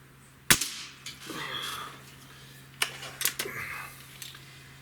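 A Gamo Hunter Extreme .25 air rifle fires one sharp, loud shot, followed by fainter clicks and ticks, then a few more small, close snaps toward the end.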